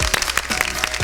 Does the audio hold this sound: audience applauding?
yes